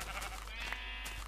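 Sheep bleat inside a hardcore survival video game. The bleats are faint and sit under a steady game soundtrack and background hum.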